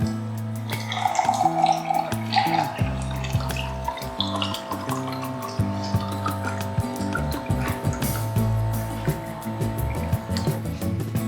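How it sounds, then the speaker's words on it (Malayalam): The small pump of an automatic water dispenser hums steadily as water streams continuously into a container, with faint ticking clicks throughout. "ക്ലിക്ക് ചെയ്യുക വെള്ളം വരിക അടുത്ത ക്ലിക്കിൽ വെള്ളം സ്റ്റോപ്പ് ആവും"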